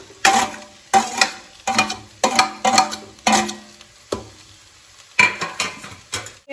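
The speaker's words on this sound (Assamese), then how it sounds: "অকণমান ফ্ৰাই হোৱাৰ পিছত যিটো ফ্ৰাই কৰিছিলে এইটো ঢালি দিব এনেকৈ" Ingredients for Maggi noodles fry in a pan, with a soft sizzle under about ten sharp, rhythmic stirring scrapes of a utensil against the pan, heard up close.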